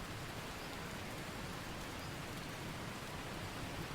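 Steady rainfall in the jungle survival game Green Hell, a soft, even hiss of drops pattering continuously with no breaks or other sounds, quiet and uniform throughout.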